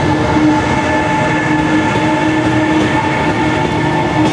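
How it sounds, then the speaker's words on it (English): A train rolls past nearby with a loud, continuous rumble and faint rail tones holding steady throughout, with no voices. "Nothing like an impromptu train entry, eh?"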